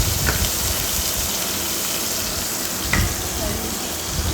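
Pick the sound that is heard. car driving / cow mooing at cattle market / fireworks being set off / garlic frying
garlic frying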